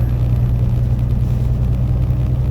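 A truck engine drones steadily at low pitch while accelerating, a loud continuous rumble with a faint rise in power, no voices.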